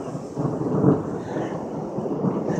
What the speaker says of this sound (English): Oh, whoa, that was a lightning strike. I'm about to hear a boom, I guess.